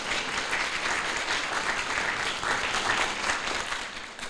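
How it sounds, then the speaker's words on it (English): Audience applause at a book release event, a dense, steady wash of many hands clapping together at even loudness throughout, close and full, with no voices standing out. "Round of applause."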